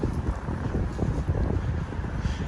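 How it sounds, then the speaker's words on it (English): Steady low roaring wind buffeting a microphone outdoors in downtown Atlanta, Georgia, loud and continuous with no pauses. "It's windy. I hope you can hear the wind."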